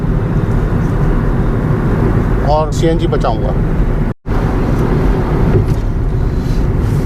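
Maruti Ertiga CNG with a 1500 cc engine cruising on the Delhi-Gurgaon highway, a steady broadband road and engine rumble from inside the cabin, with someone talking over it partway through.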